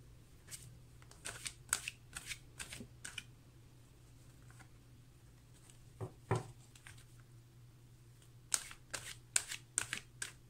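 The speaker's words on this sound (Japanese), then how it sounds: "もう少しシャッフル。" Tarot cards being shuffled, soft quiet riffling and slapping taps in irregular clusters against a faint steady hum, with a lull in the middle before more quick card sounds.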